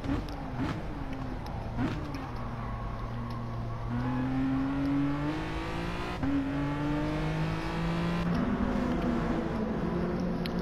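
Race car engines during a race roar continuously, rising in pitch through the gears with brief drops at each shift, loud and close, as on board a car in traffic.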